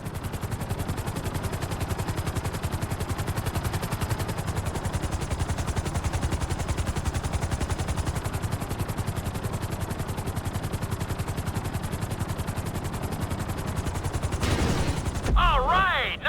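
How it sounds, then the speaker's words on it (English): A helicopter's rapid rotor chop thuds steadily and loudly as it descends onto a helipad in GTA 5, ending with a brief burst of other game sounds. "Bring the helicopter down gently onto the helipad"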